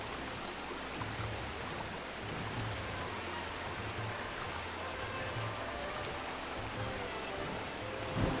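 A rushing waterfall in the video game Pokémon Violet, a steady broadband wash of falling water that stays even and continuous throughout, with no talking.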